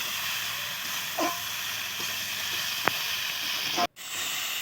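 Masala for rui fish curry sizzles in a pan as a steady, even hiss, with a few faint scrapes from stirring and a sudden brief drop near the end; close and continuous with no voices.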